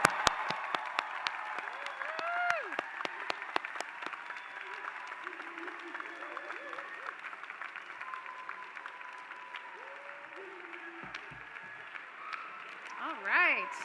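Applause for new graduates at a university commencement ceremony: sharp scattered claps at the start, then thinning clapping mixed with distant whoops and whistles from the crowd, fairly faint overall.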